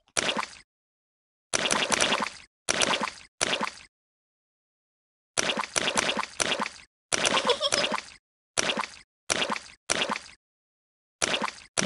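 Repeated splashing in muddy puddles in a Peppa Pig video game, wet slapping splats arriving in clustered bursts of two to four with clean silent pauses between groups, fairly crisp and close.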